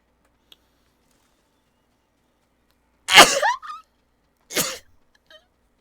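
Kaze the horse in Ghost of Tsushima gives two separate loud whinnying bursts, close by against silence: a longer descending neigh trailing into a snort, then a shorter one about a second later.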